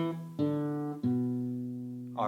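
A guitar plays the next phrase of the melody: three plucked notes ring out with sustained harmonics, each struck cleanly and left to decay, with a faint extra sound at the end.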